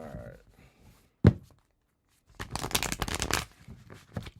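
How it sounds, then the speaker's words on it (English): Tarot cards are shuffled in a brisk riffling burst that lasts about a second, close and fairly loud, after a single sharp thump of the deck. Faint talk comes just before. "Oh, that was fun, a little shuffle there."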